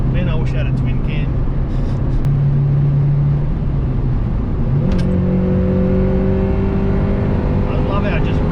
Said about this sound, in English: I love how it just revs.